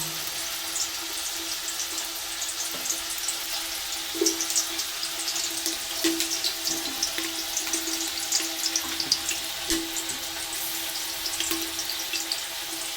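Dry red chilies, bay leaves and green chilies fry in mustard oil for a vegetable khichuri. A close, continuous crackling sizzle carries scattered small pops throughout.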